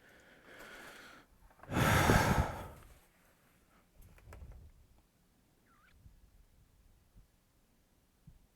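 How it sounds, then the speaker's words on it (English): Loud, drawn-out yawn from a person in another part of the house, one breathy swell lasting about a second, followed by quieter breathing and faint room noise. "my dad's yawning. He's so loud."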